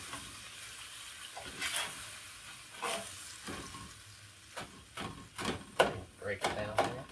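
Birds Eye Voila beef lo mein sauce simmering and bubbling in a skillet on a stovetop, with scattered stirring scrapes and clinks that grow busier toward the end, set against a soft background hiss.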